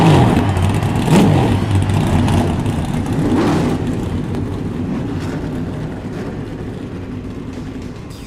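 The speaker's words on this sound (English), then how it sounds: "Drivers, start your engines." NASCAR stock car engines starting and revving together in the iRacing video game before an Atlanta race, a dense loud roar that swells in bursts and then settles into a steady drone, with no talk.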